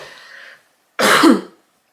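A single harsh throat-clearing cough, close and fairly loud, following a stretch of quiet murmuring and then silence.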